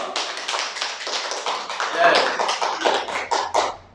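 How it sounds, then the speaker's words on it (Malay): Audience clapping at a debate club event held in the evening, a dense patter of many hands filling the room fairly loudly and steadily, with a bit of voice and whooping mixed in toward the middle. "Kita berikan tepukan sama sekali untuk semangat semua."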